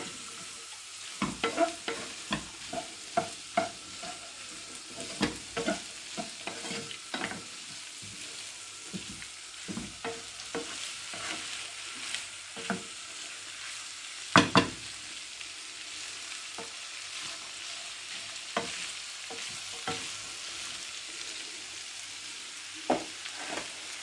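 Nigerian fried rice with peas, carrots, green pepper and gizzard being stirred and fried with salt and seasoning cube, close sizzling under irregular scraping and clinking strokes of a spoon against the pot, with one sharper knock midway.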